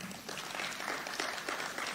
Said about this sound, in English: Let's give her another clap.